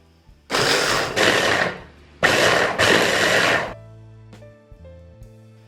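Cabbage and green chillies are whirred in a chopper or food processor in two loud bursts of grinding, each about one and a half seconds long, followed by quieter clicks and a low hum.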